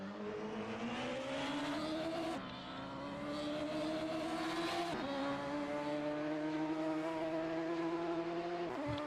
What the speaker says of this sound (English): Two very different noises of the engine there.